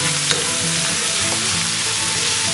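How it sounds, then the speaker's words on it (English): Onions and curry powder sizzle and fry hard in a pan on high heat, a steady, close, dense crackle with faint stirring and no voices. "The sizzling still on high heat"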